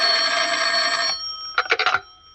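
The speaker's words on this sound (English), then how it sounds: "When I walked into the office, the phone was ringing." An old-fashioned office telephone rings in a radio detective drama, one long continuous bell ring followed by a short pause and a quick burst of rattling rings, fairly clear and up front.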